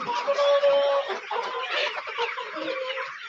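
A dense flock of broiler chickens in a poultry shed holding a lot of 3,500 birds clucks and squawks continuously at close range, a busy overlapping chorus with no voices.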